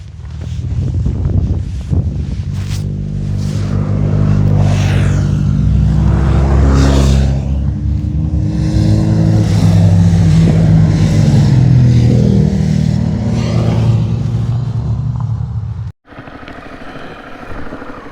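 A car drives past on Hardknott Pass, a steep mountain road, its engine droning loudly and building, then swelling and fading near the end while a steady motor hum continues.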